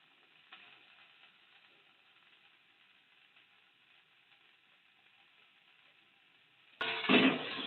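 Vegetables in a pan, nearly silent at first, then a sudden loud burst of sizzling and frying as they are stirred.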